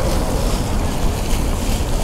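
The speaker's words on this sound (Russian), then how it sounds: "Тут вот фонтанчики." Small water fountains splash steadily in a city square on a calm evening, a continuous close hiss and patter of falling water with no voices.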